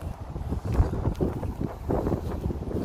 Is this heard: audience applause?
no